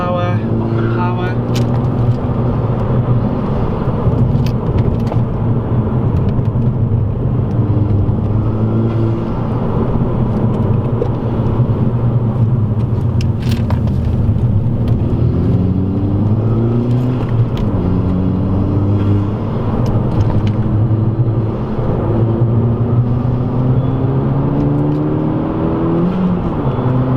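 VW Golf GTI mk5 accelerating hard on full power, a loud continuous engine drone from inside the car with rising pitch as it revs through gears, with people talking over it throughout.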